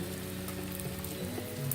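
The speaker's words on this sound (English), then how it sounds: "Inside this pot here we have the butter going" Butter sizzles in a pot before beans go in for vegan burritos, a steady crackling fry with small pops scattered through it, close and even, under faint background tones.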